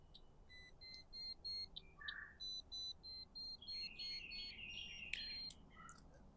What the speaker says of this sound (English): Every time you hear this thing beep, it's taking a measurement, by the way.